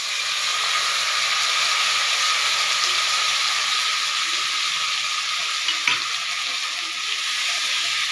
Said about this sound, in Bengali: মশলা দিয়ে আলু দিয়ে ভালো করে কষিয়ে নেব।